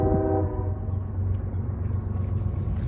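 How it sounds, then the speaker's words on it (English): A northbound CSX freight train approaches on an elevated curve, its horn blaring in a brief sustained tone at the start before giving way to a steady, loud rumble of rolling cars and wheels. "Northbound CSX. It's probably the train that comes from along the Ohio River."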